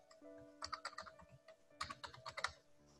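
Two quick bursts of typing on a computer keyboard while an email address is entered and then repeated, crisp close keystrokes over a faint steady background hum.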